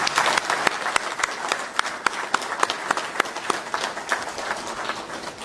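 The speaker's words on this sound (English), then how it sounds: "let's clap for them for the role they played in developing Zambian football" An audience at a Zambian football event gives a round of applause for former football leaders, steady hand claps with sharper individual claps standing out, lasting several seconds without speech.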